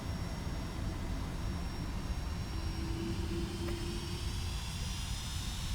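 Boeing 757 jet engines in the X-Plane 11 flight simulator, at the start of a takeoff from Whenuapai: a steady, loud, broadband engine roar that holds constant throughout, with a faint tonal whine rising briefly partway through.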